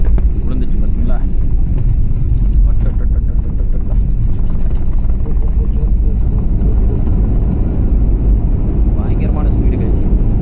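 Passenger jet on a Kuwait to Chennai flight touching down on the Chennai runway, heard from inside the cabin as a loud, continuous rumbling roar that fills the whole stretch.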